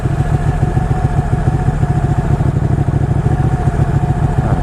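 A Ducati motorcycle engine idles loudly and close by in stop-and-go traffic, its lumpy, uneven beat pulsing steadily throughout.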